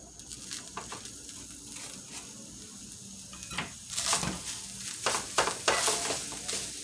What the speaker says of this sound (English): So now I'm going to add in my meat back into my pan